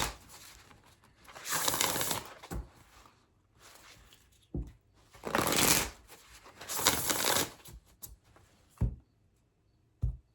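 Tarot cards are shuffled in several bursts of riffling and sliding, with close, crisp rustles separated by brief pauses.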